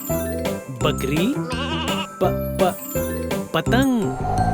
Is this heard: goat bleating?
yes